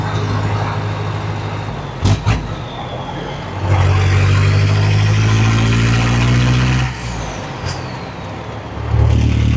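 Diesel engine in a classic Chevy Apache truck running up close, a steady low rumble that surges louder and heavier for a few seconds before settling back, with someone talking over it.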